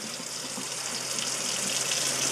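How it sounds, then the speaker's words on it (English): Water running steadily into a fresh-picked alfalfa green drink to dilute it, a continuous close splashing hiss lasting a couple of seconds with no talk. "I'm going to add a fair bit of water to it, dilute it down a little bit"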